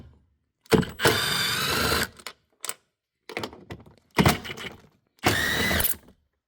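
Torx T40 screws being backed out of the 12V battery cover on a 2021 Audi A6 Allroad, heard as several separate close bursts of buzzing tool whir with brief clicks between them and no talking.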